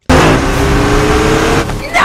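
A car drives up in a film scene from Terminator: Dark Fate, its engine a loud, steady rumble that holds for about two seconds before a brief shift near the end.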